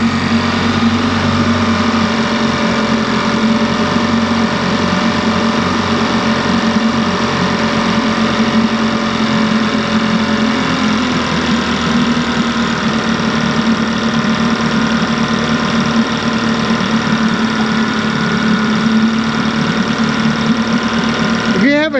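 A Mercury two-stroke or four-stroke outboard motor from 1989 or 2010 idles close by with a steady, fast, buzzing drone that runs throughout. Speech is faint under it.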